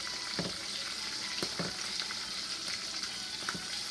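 Dry fish frying in hot oil, Trinidad style, with a steady close sizzle broken by sharp pops and crackles that burst out every second or so.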